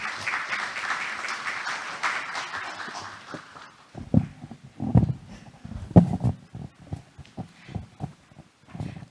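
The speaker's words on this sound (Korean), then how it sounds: "큰 박수로 환영해 주시기 바랍니다" Applause from a conference audience welcoming a presenter to the stage at a government innovation forum, a dense patter of clapping in the first few seconds that fades into scattered sounds and low rumbles.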